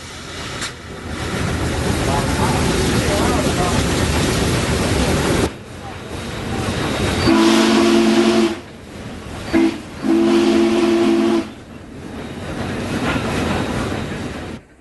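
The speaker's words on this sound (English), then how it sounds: "the train is seen nearing the end of its run" A train rumbles past with a steady roar, then a loud whistle sounds in several long blasts with short breaks between them.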